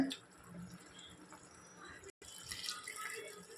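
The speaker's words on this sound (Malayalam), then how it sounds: "കുറച്ച് വെള്ളം കൂടി ഒഴിച്ചു കൊടുത്തിട്ട് നമുക്ക് വേവിക്കാൻ വെക്കാം" Water is poured into a pot of chopped mango with a soft, faint splashing trickle, briefly interrupted, then continuing quietly.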